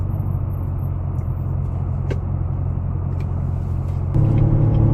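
Chevrolet Corvette in manual mode and first gear, pulling away from a green traffic light: a steady, close engine rumble that steps up louder and deeper near the end, with no talking.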